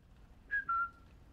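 A single short two-note whistle sounds in the video game Sniper Elite 5, clear and moderately close against a quiet background.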